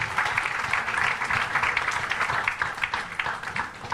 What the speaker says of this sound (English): could I request a big round of applause for him, please?